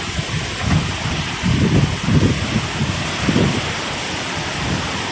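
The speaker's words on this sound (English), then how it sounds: "This a darn hurricane right here, dude." Strong hurricane-force gusts buffet the microphone in Northeast Ohio, with surging wind roars and a steady hiss of hard rain around trees and a garden, close and continuous without speech.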